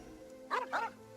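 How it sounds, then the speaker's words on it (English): Two quick dog barks in the Genshin Impact video game, close together and fairly clear above a quiet humming game background, with no talk. "And why the barking?"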